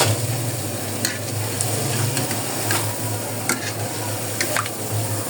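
Mango and jackfruit fritters crackle in hot oil with a steady, dense sizzle, broken by a few sharper spatters and light scraping strokes throughout, with no voices.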